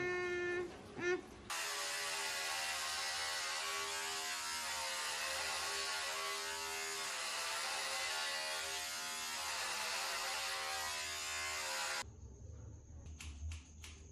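Electric hair clippers run during a short haircut, giving a loud, steady, close buzz with a strong tonal hum. The buzz holds unbroken for about ten seconds, and brief clicks and handling noises come before and after it.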